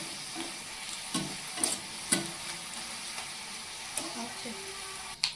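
Sliced ivy gourd (dondakaya) frying in a pan, a low steady sizzle broken by several sharp scraping stirs of a spatula, with soft background noise and no clear talk.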